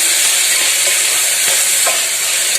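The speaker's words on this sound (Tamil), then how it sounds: "இப்போ தக்காளி வதங்கிட்டே இருக்குது." Chopped tomatoes sautéing in a pan for thakkali kuttu, a loud continuous hissing sizzle with occasional soft stirring clicks, no voices.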